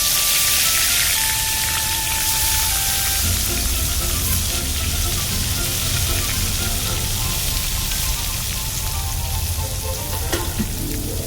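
Tomatoes and black cumin seeds dropped into hot leftover fish oil at an outdoor rooftop cooking setup, producing a loud, steady crackling sizzle that fills the whole stretch, with a few faint clinks and no voices.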